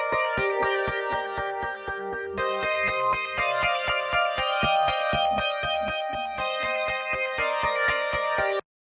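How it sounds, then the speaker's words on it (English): A Cherry Audio PS-3300 synthesizer plays a Florian pulse sequence: a steady, fast repeating pattern of bright, pulsing tones with a shifting pitch pattern, loud and continuous until it stops abruptly. "we then get this Florian pulse, which is a nice little sequence that comes in halfway through the track"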